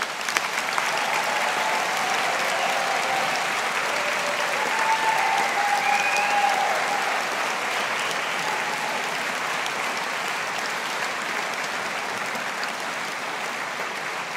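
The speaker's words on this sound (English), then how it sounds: "congratulating our graduates of 2022 on your collective achievements and success with a round of applause from all of us" Sustained applause from a large audience at a 2022 Strathclyde Business School graduation ceremony fills the hall, steady and even for about fourteen seconds, with a few faint cheers mixed in.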